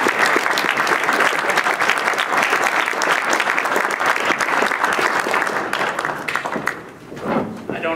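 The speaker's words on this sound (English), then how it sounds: "I expect you all to give him a round of applause and welcome him" A crowd applauds to welcome a speaker at a reconciliation event on a historic university campus, loud continuous clapping for most of the clip, dipping briefly before a final swell.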